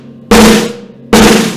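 Two loud, close bursts of a poorly controlled double stroke roll on a drum, each a dense, ringing flurry of strokes with too much bounce, separated by a short pause.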